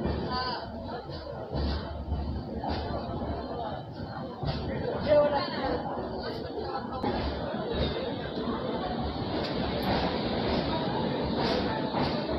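Vivek Superfast Express pulling out of Kollam Junction, a steady rumble of rolling carriages and rail noise running throughout under station crowd chatter and voices.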